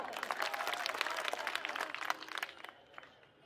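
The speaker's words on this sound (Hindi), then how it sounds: "इसके लिए भी ताली बजा दो" Applause from an audience at a Hindi-speaking gathering swells into dense, steady clapping for a few seconds, then thins and fades out toward the end.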